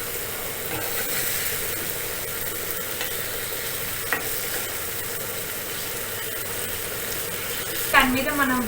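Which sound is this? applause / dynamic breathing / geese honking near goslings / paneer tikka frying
paneer tikka frying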